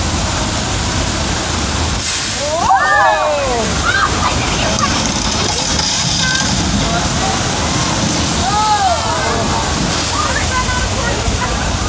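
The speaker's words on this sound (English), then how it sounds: "that is our flash flood That effect was created using thousands of gallons of recycled water" A loud, continuous rush of churning, sloshing water floods through in a theme park flash flood effect at Universal Studios Hollywood, with people shouting and crying out over the roar.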